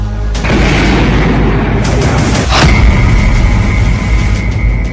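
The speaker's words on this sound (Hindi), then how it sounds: "जेलेंस्की का एक और ड्रोन मॉस्को तक पहुंच गया और इस धमाके को अंजाम दिया।" A loud, heavy boom of a drone strike explosion in Moscow bursts out, followed by a deep rumbling roar and a lingering high ringing tone.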